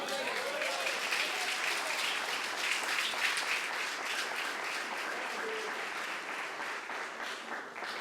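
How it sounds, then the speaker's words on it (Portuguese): A church congregation applauds in a sustained, even wash of clapping that holds steady for about eight seconds, moderately distant, with a faint voice at the beginning. "Consegue aplaudir?"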